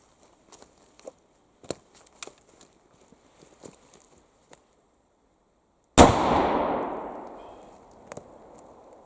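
An antique 10 gauge William Lawrence large-caliber smoothbore shotgun fires one loud close blast with a long rolling decay, after several seconds of scattered small clicks and handling taps outdoors.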